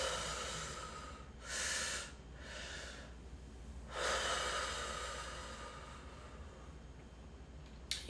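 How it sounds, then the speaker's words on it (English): Deep belly breathing during a breathwork meditation: slow, airy inhales and exhales, a couple of distinct breaths standing out softly against a quiet background hiss, close and unhurried. "Breathing into the lower belly so the belly balloons out."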